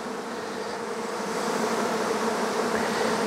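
Honeybees swarm and buzz around a hive, a dense, steady drone that holds continuously and grows slightly louder, with no voices over it.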